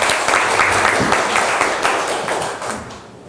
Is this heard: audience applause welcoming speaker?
yes